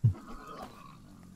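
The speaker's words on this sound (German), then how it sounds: "Das ist ein Schwein" A single short, low pig grunt in the video game Bandit Brawler opens the moment, followed by quieter background sounds from the game.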